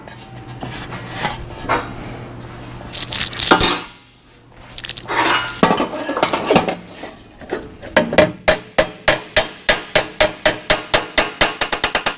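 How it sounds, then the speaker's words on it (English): A shortened 409 valve cover, a metal part, is hammered to stretch it. A burst of scraping and taps comes first, then a steady run of about fifteen sharp, ringing metal blows at close range. "I'm going to stretch it just a little bit more"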